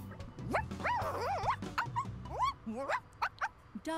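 A robot companion in dog mode from Xenoblade Chronicles 2 gives a run of synthetic yips, whimpers and barks with rising and falling pitch sweeps, loud and close over game music.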